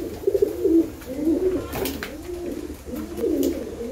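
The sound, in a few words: pigeons cooing while eating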